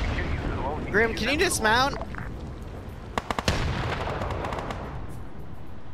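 Video game gunfire punching through a wall: a tight cluster of sharp, loud shots cracks out after someone speaks, over a steady background rumble.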